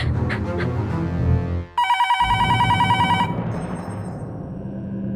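After a low voice and background music, a telephone bell rings loudly in a steady electronic trill, then fades into music.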